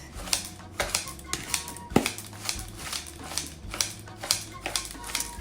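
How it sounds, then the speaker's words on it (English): Quick, crisp snips of scissors cutting herbs repeat in an irregular rhythm, close by, with a brief louder clack midway. "I'm gonna cut this up the same way I did my cilantro with my scissors."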